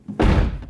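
Driver's door of a Toyota MR2 Spyder slams shut once, a single solid thud close by with a short fading rattle afterward.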